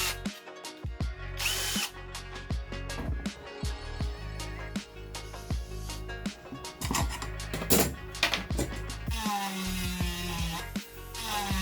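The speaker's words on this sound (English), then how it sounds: "This makes it much easier to drill the holes." Power drill whirring in repeated short bursts, stopping and starting as holes are bored, fairly close and loud; no talking.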